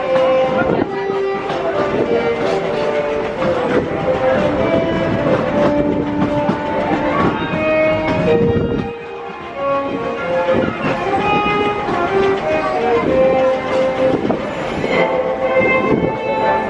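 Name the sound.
Disneyland Paris Railroad train moving on tracks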